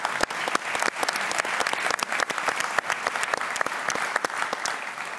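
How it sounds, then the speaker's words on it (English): Dense, steady audience applause fills the room at an evening panel discussion, many hands clapping loudly and continuously without a break. "give yourselves a round of applause"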